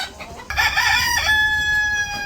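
A rooster crows loudly close by, a long drawn-out call with clucking fowl around it.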